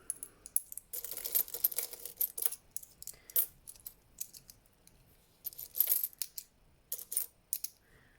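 Loose quarters, nickels and dimes, some of them grimy, clink and jingle in bursts as they are handled and sorted for a monthly coin roll-up, close and fairly loud with quiet gaps between handfuls.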